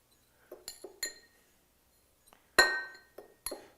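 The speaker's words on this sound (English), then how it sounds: "I'm just going to take a spoon and knock it over the outside" A metal spoon knocks against a glass rim to tap spices off, sharp bright clinks in short groups with one louder ringing strike, close-up with quiet gaps between.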